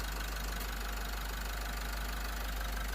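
A 1975 Mazda Family pickup truck engine idles steadily, a dry, slightly knocking mechanical rumble close by, continuous and even with no talking.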